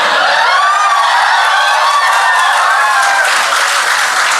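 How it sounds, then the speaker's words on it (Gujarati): Audience applause fills a Gujarati standup comedy show, a loud, steady roar of many hands clapping that holds throughout with no pauses and no voices. "આટલા બધા દુરંતોના ફેન જબરા તાળી પાડો છો."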